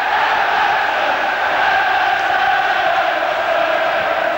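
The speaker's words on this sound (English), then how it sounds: "you'd think Everton had already won the championship the way the crowd are singing now" A large football crowd at Everton against West Ham in 1986-87 sings loudly after a goal, a dense, steady wall of massed voices filling the stadium without a break.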